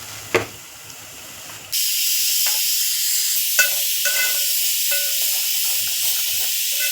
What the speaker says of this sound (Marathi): एकदम थोडीशी अशी साखर टाकायची असते म्हणजे हे कांदे ना एकदम व्यवस्थित परततात